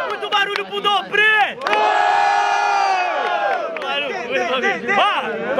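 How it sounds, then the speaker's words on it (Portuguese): A loud crowd at a rap battle roars, cheers and shouts in sustained waves, with some voices chanting together and others yelling over them, close and full throughout. "Muito barulho pro Dobre"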